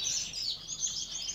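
Canaries bred in captivity chirp and trill in a quick, continuous high-pitched warble, close and fairly loud, with no talking.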